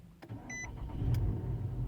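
A 2011 Nissan Altima with a smart key starts at the push of a button: a short chime and whirr, then the engine catches and settles into a steady, close idle.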